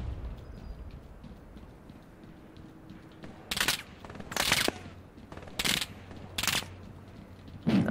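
Machine guns fire in four loud, short bursts in the online World War II shooter Hell Let Loose on the Remagen map, over a low rumble of battlefield ambience.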